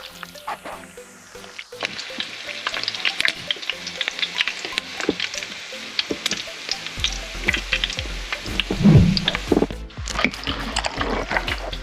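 Coated calamari pieces fry in hot oil in a kitchen in Ilulissat, Greenland, giving a dense, steady crackle and sizzle up close for the whole stretch, with a few louder splattering bursts toward the end and no talking.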